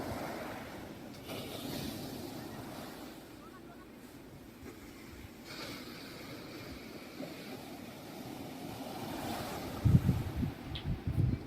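Big ocean waves crash and wash up a beach where shrimp are being caught, a continuous rough surf roar with wind across the microphone. A voice talks over it, and louder splashes come near the end.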